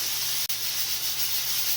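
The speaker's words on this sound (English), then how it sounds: "It's just letting some steam off, just like sometimes you let some steam off." Steam hisses out of a canning pot on a kitchen stove as a loud, steady, broad rush with a low hum underneath, broken by one very brief dropout and otherwise continuous, with no voices.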